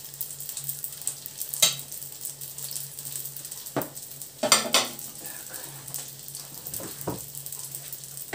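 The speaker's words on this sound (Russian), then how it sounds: "Посолила ведь масло перед тем, как печь." Belyashi fry in salted oil with a constant close sizzle, broken by a few clinks and scrapes of a utensil against the pan and a brief louder burst of spattering midway.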